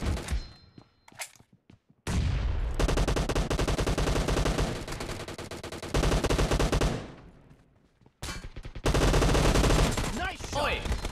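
AKM assault rifle gunfire in a shooter game, long sustained bursts of loud rapid shots broken by short pauses, with sparse game sounds in the gaps.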